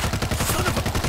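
Rapid automatic gunfire from a zombie shooter video game rattles out in a fast, evenly spaced burst of sharp, loud shots with no pauses.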